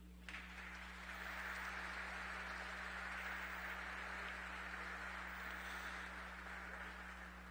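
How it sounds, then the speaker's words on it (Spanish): Applause in a cathedral after a Good Friday Seven Last Words sermon, a steady, distant patter of many hands clapping that holds evenly for several seconds with no talk over it. "Damos un fuerte aplauso a ellos."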